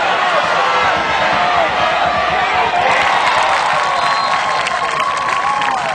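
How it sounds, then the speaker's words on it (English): A big home crowd roars and cheers at a high school homecoming football game after a touchdown, a loud continuous wash of shouting and whooping that stays dense for the whole stretch. "big crowd here on hand for the homecoming night. They're starting to get loud."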